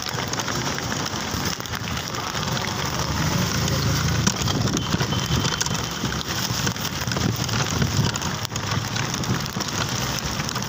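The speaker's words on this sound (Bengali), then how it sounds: "অনেক বৃষ্টি হচ্ছে" Heavy rain pours down outdoors, a dense, loud, unbroken roar of drops hitting surfaces that fills the whole stretch, with a voice faintly present beneath it.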